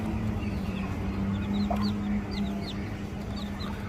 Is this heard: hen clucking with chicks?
yes